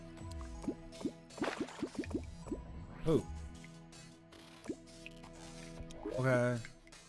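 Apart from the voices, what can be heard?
dripping water in Terraria, video game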